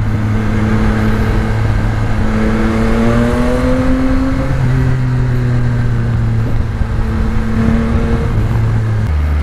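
A Yamaha XSR900 motorcycle accelerating hard on the road, its engine note climbing through the gears in rising sweeps with brief dips at each shift. It is loud and steady under wind rush.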